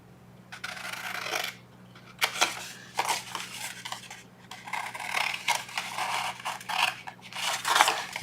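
Scissors cutting paper to make a simple envelope, with several separate bursts of crisp snipping and rasping strokes separated by short pauses, close by.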